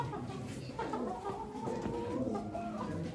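Roosters cluck and call at a busy outdoor poultry auction, with people talking in the background.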